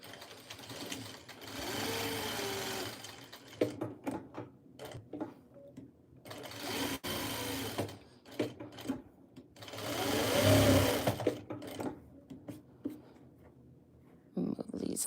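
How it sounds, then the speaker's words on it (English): A sewing machine stitches a quilt square seam in several runs of steady mechanical whirring, broken by pauses where a person talks. "I'm going to sew it at a 1/4 inch."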